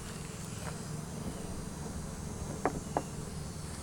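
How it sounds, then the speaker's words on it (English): Bees buzz faintly around a beehive outdoors, a soft continuous hum with a couple of brief louder passes near the end. "Good amount of bees up here."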